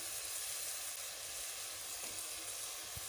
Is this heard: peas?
yes